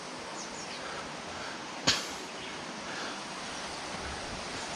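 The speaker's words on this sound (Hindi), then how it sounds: "ये सामने एक वाटर स्प्रिंग है।" A water spring flowing beside a temple on the trail to Bhagsu, giving a steady, even rush of water that holds throughout, broken only by one brief sharp click near the middle.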